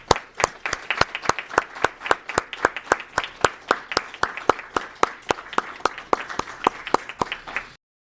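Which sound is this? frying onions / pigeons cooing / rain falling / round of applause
round of applause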